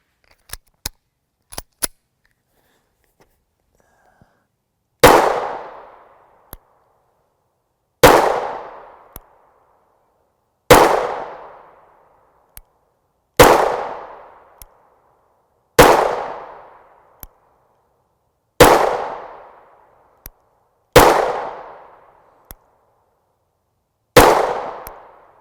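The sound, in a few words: 9mm Hirtenberger 100gr JSP shots from Springfield Hellcat pistol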